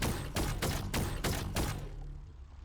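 The sideways rifle in Fortnite fires at full rate, a rapid run of about six loud, evenly spaced shots that then tail off into a fading echo.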